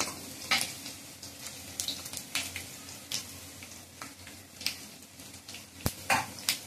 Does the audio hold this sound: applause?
no